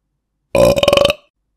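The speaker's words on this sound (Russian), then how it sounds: "Прыво рыгнул еще раз." A single loud, deep burp from a man after beer and a meal of pork and cabbage, close and drawn out with a rapid fluttering rattle before it trails off, alone in silence.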